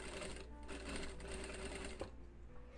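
A sewing machine with a presser foot stitches a women's American-armhole blouse, giving a continuous faint mechanical whir with a single sharp click near the end, heard close up.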